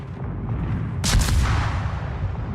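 A warship's main battery fires in World of Warships: a single heavy booming salvo with a sharp crack that rolls off into a long rumble, over a steady low engine drone.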